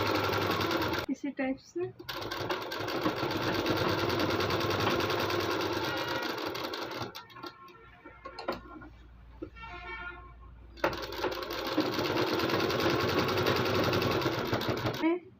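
A sewing machine stitches along the lining edge of a lined suit in long, loud runs with a brief pause in the middle. Someone talks briefly over the whirring motor.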